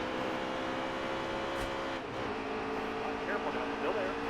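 Race cars of the PTM series racing at Michigan, a continuous dense engine drone of several cars packed together, steady and moderately loud with faint pitch shifts as they run.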